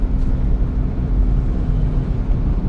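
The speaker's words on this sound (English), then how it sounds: "now we're going into fifth gear here" A Subaru Sambar mini truck cruising at 70 km/h in fifth gear with the AC running gives off a steady, close low engine drone and road rumble that holds even throughout, with no talking.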